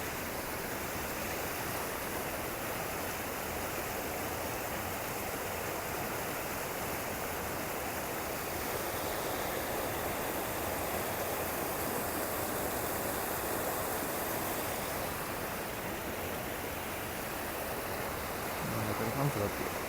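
A mountain stream of flowing water near Mandaram Nuwara, with a steady, close rushing wash that fills the scene without a break.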